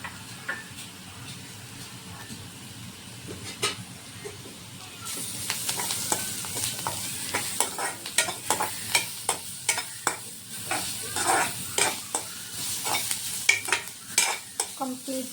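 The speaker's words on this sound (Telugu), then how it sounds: "సో క్యారెట్ పచ్చి స్మెల్ కూడా పోయేంత వరకు ఫ్రై చేసుకోవాల్సి ఉంటుంది" Grated carrot frying with onion in a pan: a soft background sizzle, then a run of rhythmic spoon clicks and scrapes as it gets stirred, close but fairly quiet, with no one speaking.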